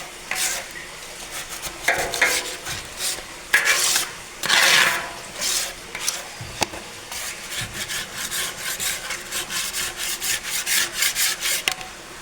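Someone scrubs and scrapes clean a khoa-making machine at a small dairy sweets plant, with repeated rubbing and scraping strokes of uneven strength, close by and with no talking.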